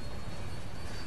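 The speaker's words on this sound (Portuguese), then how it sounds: "O avião está mergulhando em direção ao mar." An airplane diving toward the sea gives off a loud, continuous engine roar with a dense, rushing noise that stays steady through the short span.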